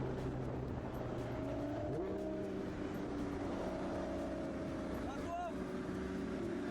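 A Nissan GT-R supercar speeds along during a police chase, its engine holding a loud, steady drone whose pitch climbs and shifts as it accelerates, close and continuous, with indistinct voices mixed underneath.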